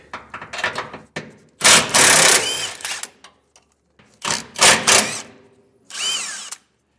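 A ratchet with a 15mm socket spins off two nuts holding a jounce bumper during an air helper spring install on a 2020 Ford, giving several sharp, close bursts of rapid ratcheting separated by short pauses.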